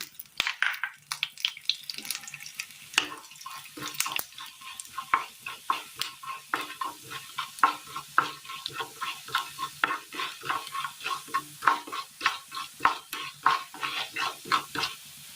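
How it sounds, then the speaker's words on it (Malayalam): Urad dal fries in oil in a pan for an eggplant curry, a continuous sizzle broken by a quick, rhythmic run of loud scraping stirs and clinks of the utensil against the pan. "എണ്ണയിലേക്ക് നമുക്കൊരല്പം ഉഴുന്നിട്ട് കൊടുക്കാം."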